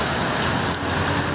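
Heavy rain pours down steadily as a dense, close hiss with no break, a sudden downpour filling the whole short stretch at a loud, even level.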